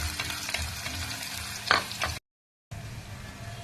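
Onions and curry leaves sizzle steadily in a hot pan for a brinjal cashew curry, a continuous close frying crackle with a brief stir clatter, then a short silent gap before the sizzling resumes.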